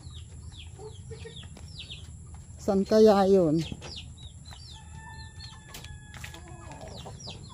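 Chickens cluck in short bursts around feeding time, with occasional soft rustling, while a person briefly speaks over them partway through.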